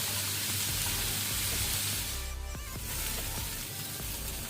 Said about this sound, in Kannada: 300 ಗ್ರಾಮ್ಸ್ ಉಂಟದು ಪ್ರಾನ್ಸ್. ಸೊ ಇದನ್ನು ಫ್ರೈ ಮಾಡ್ಕೊಳ್ಳೋಣ ಮೊದಲಿಗೆ.